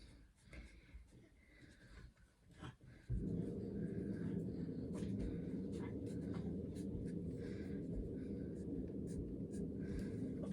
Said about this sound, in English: I'm now going to label my seed marker